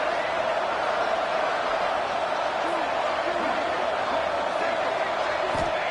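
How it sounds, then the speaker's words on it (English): A college football stadium crowd roars for the Wyoming Cowboys against Liberty, a dense, steady, far-off wash of cheering that never lets up, with a commentator talking over it. "This crowd alive to try to help the Cowboys"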